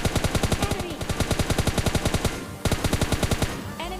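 Rapid automatic gunfire sprays in a mobile battle royale game, two long rhythmic bursts of evenly spaced shots separated by a brief gap, loud and close with no talking over them.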